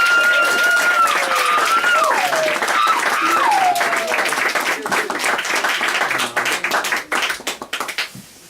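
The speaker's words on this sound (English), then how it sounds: "Let's give a nice round of applause for Thomas Patrick Reed" Audience applause with scattered whistles for performer Thomas Patrick Reed at a Portland show, loud and dense at first and then thinning into looser, uneven clapping.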